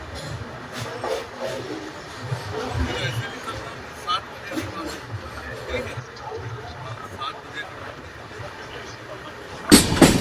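The Andhra Pradesh Express rolls along just after pulling out of Ballarshah, a steady rumble of wheels and carriage noise with rhythmic clatter, while people talk nearby over the train sound.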